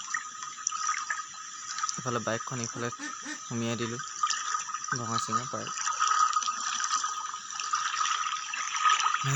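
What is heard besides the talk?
floodwater flowing through a village courtyard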